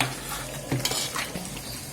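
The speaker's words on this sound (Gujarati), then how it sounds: "નાના નાના ભજીયા તેલમાં તળી લેવાના છે" Oil sizzles and crackles steadily as small bottle gourd kofta fritters fry, while utensils clink and scrape against a pan, close by, with no talking.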